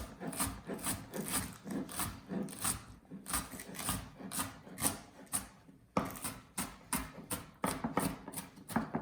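A knife slices dried porcini mushrooms on a cutting board for risotto, making quick rhythmic chopping strokes in close, steady bursts with a short pause midway and no talking.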